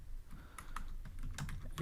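Quiet, steady typing on a computer keyboard, with a run of light irregular key taps at close range and no voices.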